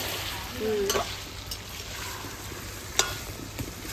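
Mutton and chicken being stir-fried into kosha in a pan, a dense continuous sizzle with occasional spoon scrapes and clinks, close and fairly quiet, without speech.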